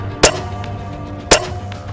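Two sharp, loud reports crack about a second apart on an African big-game hunt for a bull, each a brief impulsive bang over a low steady background hum.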